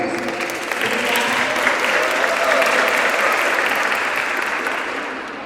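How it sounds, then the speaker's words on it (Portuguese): A crowd applauds steadily, a dense wash of clapping that stays loud throughout and eases slightly at the end. "Palmas para os nossos participantes."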